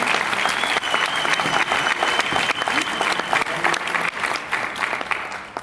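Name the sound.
audience applause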